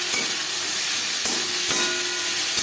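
Whole cumin seeds sizzling in hot oil left over from frying fish, a loud, even hiss that fills the whole clip, with a few faint knocks; no talking.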